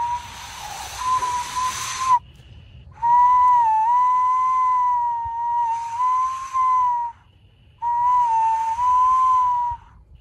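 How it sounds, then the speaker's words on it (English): A haggis whistle blown in long, steady, piercing tones, three sustained blasts after an opening hissy burst, loud and close with short gaps between, no voices. "we're going to tempt it out with this patented haggis whistle"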